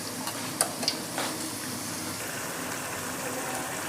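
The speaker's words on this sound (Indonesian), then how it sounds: "jadi kita goreng seperti menggoreng ayam tadi" Potato pieces frying in hot oil, dropped in one at a time so they don't stick, give a steady broadband sizzle with a few brief pops and splashes near the start.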